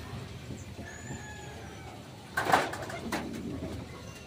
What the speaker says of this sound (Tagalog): Ito yung mga stock hen natin, dito natin linagay.